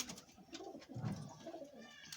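Pigeons coo on a rooftop under an overcast sky, a soft, throaty burbling that rises and falls in a steady rhythm, close by with no voices.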